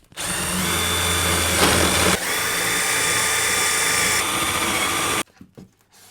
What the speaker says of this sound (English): And now let's drill right on through.